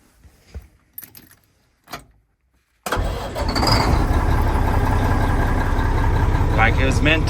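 A 1985 Mack R Model truck with a newly replaced starter is cranked after a few faint clicks and bumps, then fires and settles into a loud, steady diesel idle that runs on to the end.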